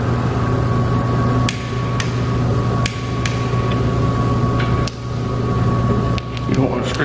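A torque wrench clicks faintly while tightening the oil drain bolts on a 2009 Yamaha TW200, giving a few sharp ticks scattered over a steady mechanical hum and room noise.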